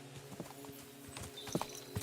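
Horse hooves clip-clopping in the video game Kingdom Come Deliverance 2, a few quiet uneven hoof strikes at a slow walk, fairly faint against a low ambient background.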